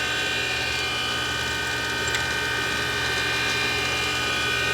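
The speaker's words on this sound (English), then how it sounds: "Getting a little bit of a low spot right there, so I'm going to go ahead and grind it some more." A grinder works steadily on a 1983 Harley-Davidson FLTC 80ci shovelhead engine part, taking down a low spot: a continuous loud mechanical whine and rasp with a constant tone and no pauses.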